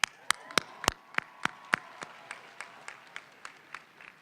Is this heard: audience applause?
yes